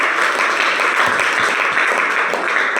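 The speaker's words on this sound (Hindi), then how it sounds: "जोरदार ताली दीजिए।" Loud, dense applause from an audience at a DXN marketing business meeting in a school hall in Boisar, India, steady clapping filling the whole stretch with no voice over it.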